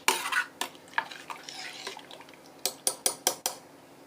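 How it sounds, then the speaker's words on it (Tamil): A spoon stirs tamarind water and cooked dal in a cooking pot, giving soft scraping and light clinks, then a run of five sharp, evenly spaced metal knocks against the rim near the end. "நல்லா மிக்சிங் பண்ணிக்கலாம்."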